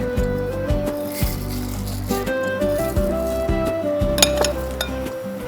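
Rice going into a pot of warming coconut milk seasoned with bay leaf and salt for nasi bakar ayam, heard as close metallic clinks and scrapes of a utensil against the pot over a faint sizzle.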